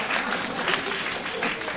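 An audience at a live stand-up comedy show in Tel Aviv claps in a dense, steady burst of applause, loud and close, with crowd noise mixed in and no pauses.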